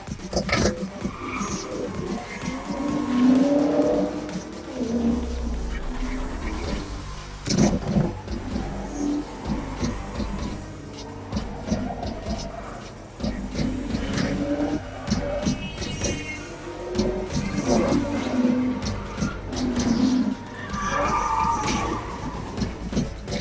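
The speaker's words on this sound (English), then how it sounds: "It's a street racing scene!" Cars tearing through a street racing scene in Saints Row 2, engines revving and tires squealing loudly throughout, with a voice talking over the game sound at times.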